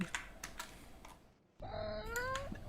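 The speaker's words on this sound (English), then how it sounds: "Oh, it's the meow." A computer plays a meow sound effect: soft keyboard clicks are followed by a short pause, then a loud, drawn-out synthetic cat meow with gliding pitch.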